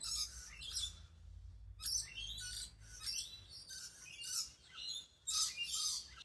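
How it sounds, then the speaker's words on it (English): Several bursts of high bird chirps and tweets outside an open window, fairly loud and near, in quick irregular clusters over a low steady background hum. "I'm sorry about the birds, you can probably still hear them"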